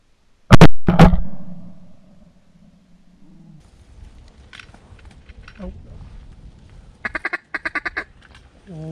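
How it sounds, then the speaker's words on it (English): Ducks during a hunt give loud close calls at the start, then fainter quacking and honking later, with a quick burst of calls near the end, while hunters talk and shout. "Lot of ducks."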